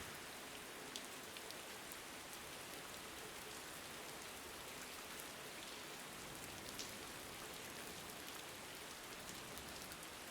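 Steady, even rainfall with a dense hiss on surfaces, continuous and unbroken throughout, with occasional faint drop ticks and no voices, in a quiet nighttime horror-story setting.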